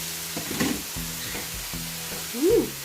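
Meat and shrimp cooking in a covered pan for crispy stir-fry noodles, a steady close sizzle with a few brief bursts of louder spattering rising above the hiss.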